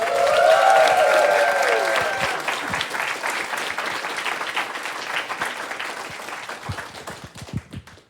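Crowd at the RPG Limit Break 2025 finale charity speedrun event bursting into cheers and sustained applause, with whoops over the clapping, loud at first and slowly thinning out into scattered claps.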